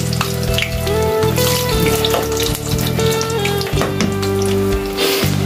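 Pakoras sizzle steadily in a pan of hot oil, a dense, continuous frying hiss that stays loud and close from start to finish, with no voices over it.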